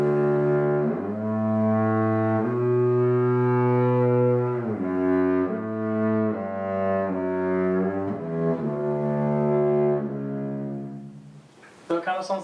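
Cello recording pitched down seven semitones and slowed, giving a deep, bass-like bowed tone of sustained low notes that shift in steady phrases, continuous and loud, ending with a brief rough noise.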